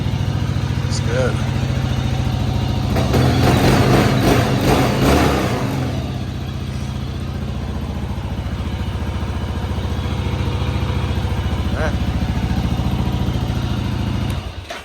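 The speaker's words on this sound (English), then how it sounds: "Sounds like a dirt bike, but I don't hear any rattling coming from that plate." Engine of a 2022 Kawasaki KLR650 dual-sport motorcycle with a newly installed skid plate, revving loudly for a couple of seconds and then settling into a steady, close idle.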